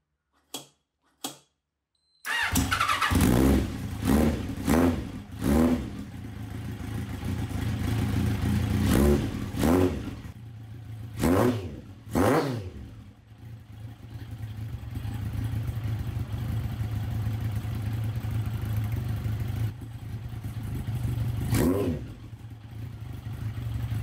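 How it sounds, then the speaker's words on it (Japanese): An FRP boat's engine, under repair for black smoke, cranks with a few clicks, then catches and runs with a rough idle, revving up and down several times close by, with no talk. "一度エンジンをかけてみましょう"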